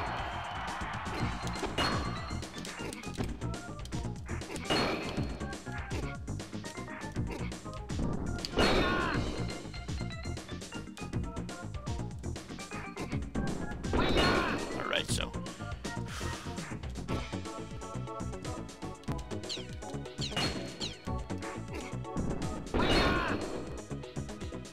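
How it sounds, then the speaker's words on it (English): Breaking targets in Super Smash Bros. on the Nintendo 64 produces a series of sharp smashing and whacking hits spread every few seconds over constant game music and sound effects. "Breaking targets."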